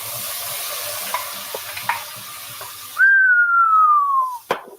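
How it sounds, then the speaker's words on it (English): Tomato sauce hits a hot cast iron pan with a loud broadband sizzle and hiss, light stirring taps, then a sustained falling whistle-like tone of escaping steam and a final clatter. "Now we got some steam going on there."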